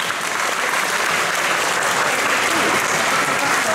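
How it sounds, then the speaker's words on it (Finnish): A crowd at a live show in a shopping centre applauds the sound engineer, a steady wash of clapping lasting several seconds at an even, fairly loud level. "Annetaan hänelle aplodit."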